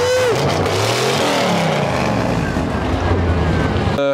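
The 1980s Chevrolet Silverado K1500 pickup's V8 rumbles loud and close, with a strong steady roar and heavy wind buffeting across the whole stretch and a brief sharp sound at the end.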